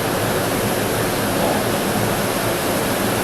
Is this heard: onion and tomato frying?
no